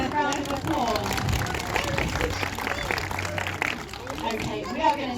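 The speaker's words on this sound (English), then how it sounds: "can we give them a big round of applause?" An audience claps at a zoo sea lion demonstration, a dense patter of hands mixed with crowd chatter and babble, fairly close and sustained throughout.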